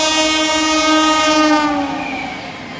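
A train horn sounds loud and close in one sustained, steady blast at a crowded railway station at night, as pilgrims arrive for the Maha Kumbh Mela 2025.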